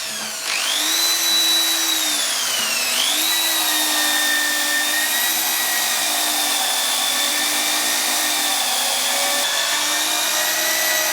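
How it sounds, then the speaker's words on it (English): A power drill spins a sanding attachment against a green timber bowl, producing a loud, steady high whine that dips and recovers once early on, then holds evenly close by with no talk. "I'm just going to hurry things up a bit by getting this onto my drill."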